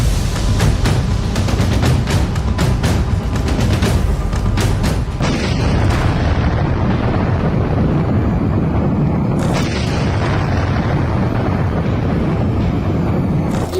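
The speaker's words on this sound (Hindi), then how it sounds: "ऐसा धमाका जिसकी शॉक वेव में ढह गया एक बड़ा इलाका।" A loud booming blast rolls into a sustained, heavy roar and rumble, with a second surge partway through.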